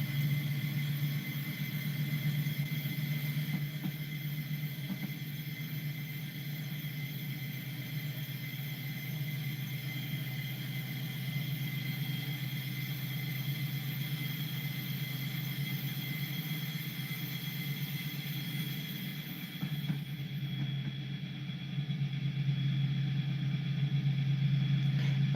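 A steady, low rumbling engine drone with a faint rail-like hum from model train sound effects runs continuously, shifting slightly near the end, with no voices.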